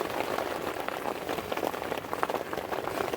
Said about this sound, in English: it's still thundering outside. Still got a storm going on.